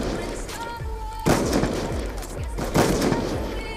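Repeated gunfire in a first-person shooter video game, with sharp cracks and booming shots in quick bursts, two loud volleys standing out over a busy game mix.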